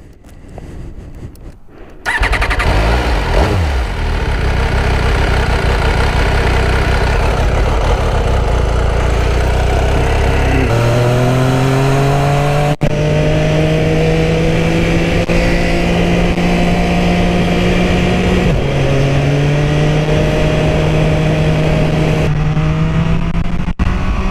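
An MV Agusta F3 675 motorcycle engine starts, idles and revs repeatedly, its pitch climbing and falling in loud, close, sustained runs with no talking.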